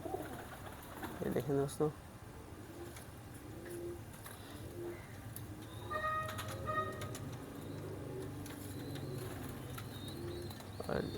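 A pair of Teddy pigeons coos softly in the background while someone talks over them in Hindi. Brief wing flutters or scuffs stand out near the start, and a few sharper calls come partway through.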